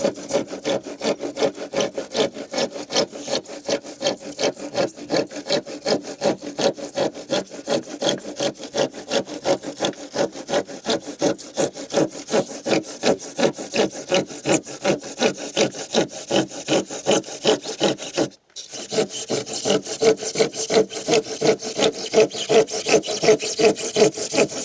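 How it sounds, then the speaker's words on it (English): A hand saw cuts through insulation bricks on a construction site, a steady, loud rhythm of rapid back-and-forth rasping strokes that runs for over twenty seconds, with a brief pause near the end before the sawing resumes, and no talking. "It's a saw, not a drill."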